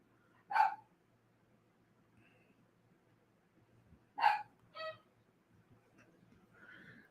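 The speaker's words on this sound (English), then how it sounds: "there goes my doggies now" Two sharp dog barks from pet dogs ring out a few seconds apart, moderately loud and slightly distant, with a fainter yip after the second and quiet room noise between.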